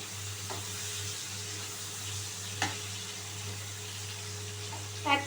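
Pointed gourd (potol) pieces fry in hot oil with a steady low sizzle, punctuated by a few sharp spatters and stirring clicks, alone without speech.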